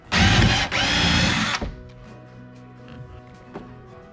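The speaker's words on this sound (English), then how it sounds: "drill some holes, and either screw or rivet this down" A power drill boring holes through a jon boat side console leg, a loud steady whine for about a second and a half with a brief dip, then fading to faint rattles and clicks.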